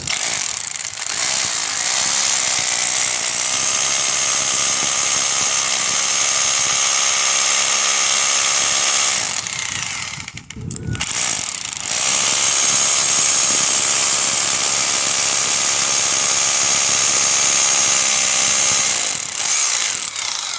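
An electric drill with a 14 mm bit boring holes for M8 solar panel mounting, whining loud and close in two long sustained runs split by a brief pause around the middle, with no talk.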